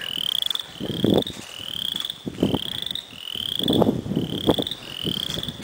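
Frogs call repeatedly outdoors along a trail near a pond, a series of croaks in an uneven rhythm over a steady high insect-like trill, fairly close and alone.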